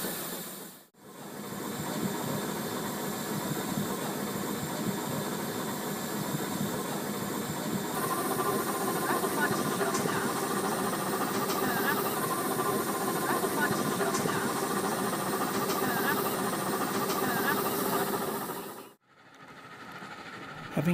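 Slide-valve steam engine of a steam gondola on Coniston Water, its boiler fired with compressed-sawdust logs, giving a steady, close hiss and mechanical rumble that runs continuously before dropping away near the end.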